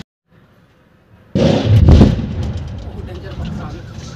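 A rock blast goes off at a bridge pier and abutment construction site after a quiet lead-in, a sudden loud deep boom followed by a rumbling, fading debris roar.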